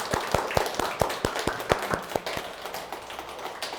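About a dozen sparse, evenly spaced claps ring out from a small group, light and a little uneven, fading toward the end.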